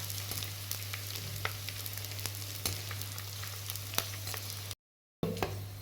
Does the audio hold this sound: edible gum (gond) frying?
yes